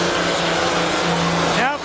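A truck engine at a truck and tractor pull revs hard and winds up higher in pitch, loud and continuous, with a crowd and commentary in the background.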